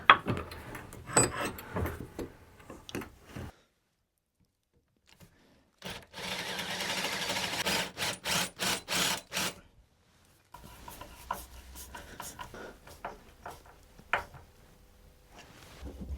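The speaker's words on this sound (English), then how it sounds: "I'm going to grab a Forstner bit and drill a little hole for it to go into." A Forstner bit drills a recess hole in wood, the drill running in short loud bursts separated by pauses, with rough grinding and scraping between them, close up and without talk.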